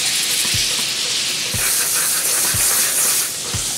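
Apples sizzle in a hot pan, giving a loud, steady hiss and crackle close by, with faint low knocks about once a second and no talking.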